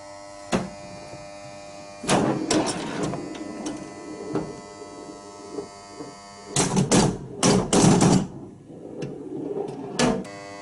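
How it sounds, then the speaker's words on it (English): Sharp mechanical clacks and thumps from the coils of a Williams 'Full House' pinball machine firing, some in quick bursts, over a steady electrical hum, close by. "there are 1 or 2 coils making too much noise"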